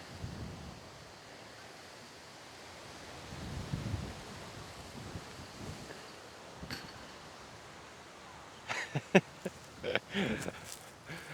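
Strong headwind buffeting a microphone on a disc golf course during a dust storm, a steady roaring gust noise with swells, and a few sharp knocks near the end.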